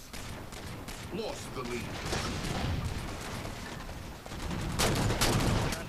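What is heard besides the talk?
gunfire in the video game Halo 4 multiplayer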